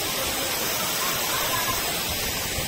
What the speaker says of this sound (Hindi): पानी की आवाज़ आपको पीछे सुनाई दे रही होगी